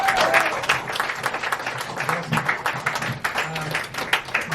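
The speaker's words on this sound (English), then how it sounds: "Give a round of applause for everyone you've seen today." Audience applause for the performers of a comedy show at the Edinburgh Fringe, bursts of clapping that rise and fall in loudness across several seconds.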